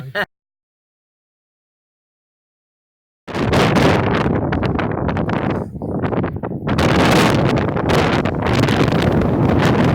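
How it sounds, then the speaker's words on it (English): A brief blip, then silence, followed by loud, cold wind buffeting the microphone in heavy, sustained gusts with a short lull midway. "Oh, it's windy and cold."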